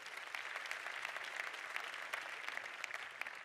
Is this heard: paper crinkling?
no